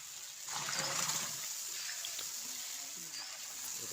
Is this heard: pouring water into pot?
yes